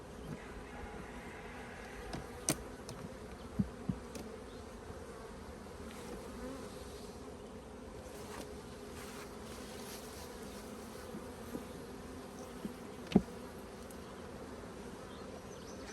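A low, continuous hum of many bees buzzing close by in a sparsely populated hive, broken by a few sharp clicks and knocks; no one speaks.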